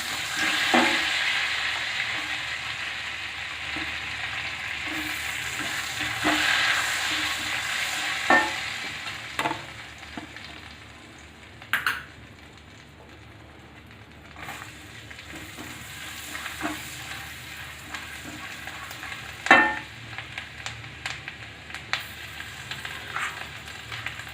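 A bay leaf fries in oil over a medium flame as the base for malai kofta, a steady close sizzle with intermittent clicks and scrapes of stirring, fading quieter midway before rising again.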